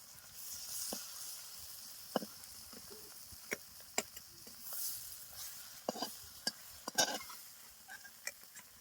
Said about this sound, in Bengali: মাছটা আমি বেশি লাল করে ভাজছি না